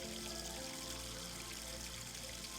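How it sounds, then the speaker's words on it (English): Cold water from a garden hose in a video game gushes in a steady, dense, hissing stream that runs without a break and without talk. "Cold water gushed out of the tip when he grabbed the hose."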